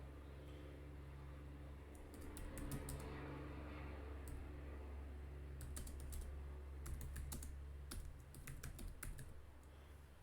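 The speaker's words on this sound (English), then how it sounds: "I'm just going to write some random text." Keys click on a computer keyboard in quick bursts as text is typed, soft and close against a low, steady background hum.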